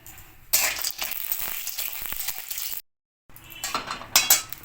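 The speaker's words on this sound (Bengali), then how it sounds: "বড়ি কটা ভেজে নেব।" Bori, sun-dried lentil dumplings, frying in oil in a wok with a loud, bright crackling sizzle that runs steadily, cuts out briefly, then resumes with stronger bursts.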